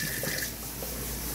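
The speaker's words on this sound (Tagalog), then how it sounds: "Ialis natin ang kanyang tubig. Strain natin siya." Water drained off cooked noodles through a strainer, a steady close rush and splash of pouring liquid that fills the whole short moment without pause, no voices over it.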